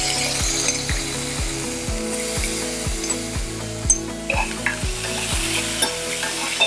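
Soaked toor dal goes into a pan of frying onions, mustard seeds and curry leaves, giving a steady sizzle behind a loud, regular clicking rattle like a ratchet ticking about twice a second, with no voices.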